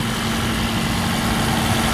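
A 2009 Toyota Camry Hybrid's engine idles in a steady, even low hum with a faint constant whine, heard up close under the open hood with no talking.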